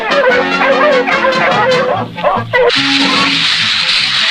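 Several sled dogs bark and yip excitedly in quick bursts over a loud cartoon music score, with a brief lull before the noise swells again.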